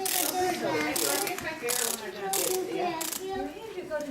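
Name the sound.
wind-up toy mechanism whirring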